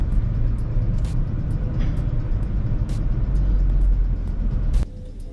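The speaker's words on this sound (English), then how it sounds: "so this is the Tiggo 2 going uphill," A 2020 Chery Tiggo 2 pulling away uphill from a complete stop, its engine giving a steady close rumble under road noise that cuts off abruptly near the end.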